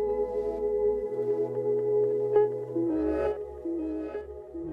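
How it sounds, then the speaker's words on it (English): Electronic music sample with a delay effect, sustained tonal layers and a low bass line shifting partway through, echoing repeats trailing under a steady level with no talk. "So with the delay on, it sounds like this."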